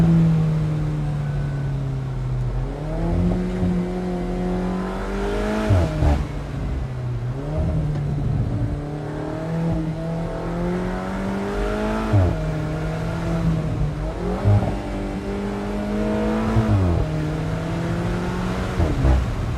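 A 2017 Alfa Romeo 4C Spider sports car driving hard, its engine revving up through the gears again and again with rising whines that drop at each shift, loud and close for the whole stretch.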